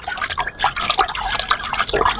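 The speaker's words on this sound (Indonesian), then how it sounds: "Nah saat kita siram menggunakan air rendaman ini hanya kita siram" Soaking water is poured onto an aglaonema houseplant, giving uneven splashes, drips and trickles in close, irregular bursts with no talking.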